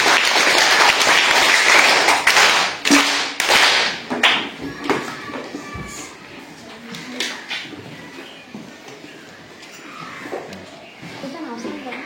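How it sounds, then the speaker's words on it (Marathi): Children in a primary school quiz clap together in a loud burst that scatters into uneven claps and fades over several seconds, with voices murmuring underneath. "त्यासाठी सगळ्या टाळ्या वाजवा."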